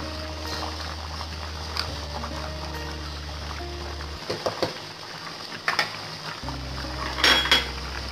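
Ginger garlic paste stirred into a pot for chicken qorma: a spoon scrapes and clinks against the metal pot in scattered knocks over a low steady hum, with a brighter rattle near the end.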